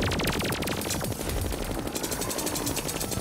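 Rapid, continuous gunfire in the modded Terraria video game while shooting at the laser eye boss, a dense rattling stream of shots over busy game noise, loud and unbroken throughout.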